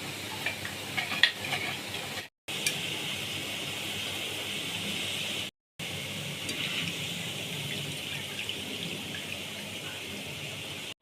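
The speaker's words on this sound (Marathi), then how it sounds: "मस्त या झाऱ्याने इझिली अशी बुंदी पाडली जाते." Gram-flour batter falls through a perforated ladle into hot oil as boondi, giving a steady, close sizzling hiss that continues evenly with brief breaks.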